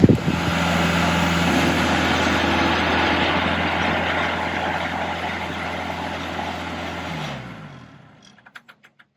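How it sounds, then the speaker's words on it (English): A farm tractor drives over, its heavy engine rumbling and droning steadily for several seconds close by, then cutting off, leaving a few faint clicks at the end. "so he can get the tractor and drive it over here"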